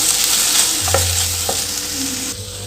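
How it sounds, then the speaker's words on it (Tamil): Vegetables and coriander leaves sauté and sizzle in a pan for pongal sambar, with a steady frying hiss and a few spoon scrapes and knocks as they are stirred, close up. "இது கூட இப்போ கொஞ்சமாக மல்லியிலையும் சேர்த்துட்டு நல்லா கலந்து கொடுத்துக்கலாம்."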